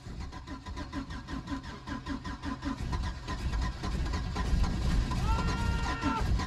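A Case diesel tractor makes a cold start attempt. The starter cranks the engine in a fast, steady rhythmic churn for several seconds, and it grows rougher and louder toward the end as it struggles to catch.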